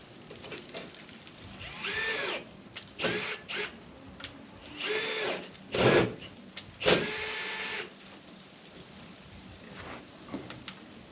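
A power tool drives bolts into the Bison grille of a 2016 Chevrolet Colorado, with about six close, whirring bursts of a few seconds each separated by short pauses, and no talking.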